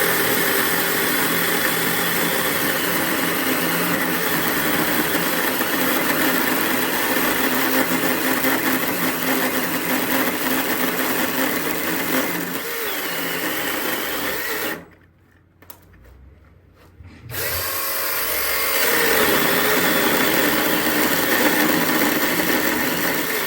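A Milwaukee M18 dual battery cordless chainsaw cutting through a thick log on a sawmill setup, a loud steady whine that stops briefly, then resumes as the chain bites again.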